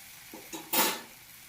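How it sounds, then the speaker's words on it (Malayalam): Turmeric, coriander and chilli powders frying in a pan for a mango fish curry, stirred with a brief scrape and soft sizzle, a couple of light taps, then one louder burst of stirring sizzle. "എല്ലാം ചേർത്ത് നല്ലോണം ഒന്ന് അതിൻ്റെ പച്ചമണം പോണ വരെ ഒന്ന് ഇളക്കി കൊടുക്കാം."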